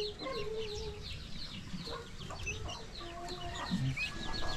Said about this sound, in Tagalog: Yung pabo natin.